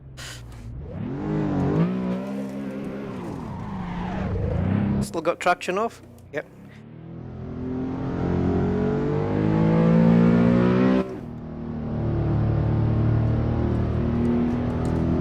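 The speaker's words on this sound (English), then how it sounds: "Very low, throaty sound, which is exactly how the M5 does sound. As it has a V10 monster engine in it." A BMW M5 with a V10 engine, run as a Ring Taxi on the Nordschleife, revs and climbs through the gears in long, loud, low throaty pulls, with brief talk inside the car between the accelerations.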